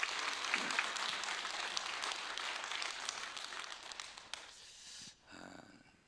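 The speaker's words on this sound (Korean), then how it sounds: "우리 실행위원들 위해서 여러분 박수 한번 다시 해주세요" A church congregation at an early-morning service claps for its executive committee members: dense, fairly soft applause from a full room, a few sharper claps standing out, tapering off and ending abruptly.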